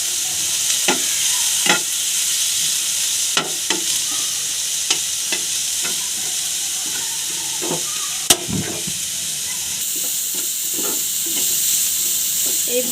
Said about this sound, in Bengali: এইভাবে করে আমি পেঁয়াজটা ভেজে নেব